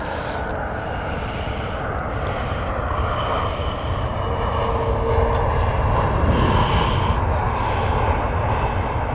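A Ryanair airliner comes in to land at Stansted Airport, its engines a broad, steady roar that holds at a constant level and swells slightly near the end, heard alone without talk.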